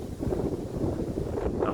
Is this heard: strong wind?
yes